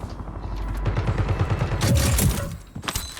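Gunfire in the video game Call of Duty Warzone on Rebirth Island, Quad Resurgence mode: a rapid string of rhythmic automatic shots thumps over a rumbling game backdrop, then ends in a couple of sharper cracks.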